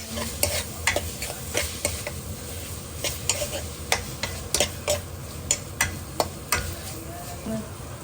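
Boiled potatoes fry in a pan with a constant low sizzle, while a spatula stirs them in regular sharp clicking scrapes, near and fairly loud, repeating roughly every half second.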